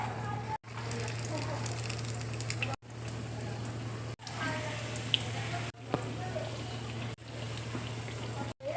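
Chicken resha kebabs dipped in beaten egg and frying in hot oil, giving a steady crackling sizzle broken by short gaps, under a constant low hum.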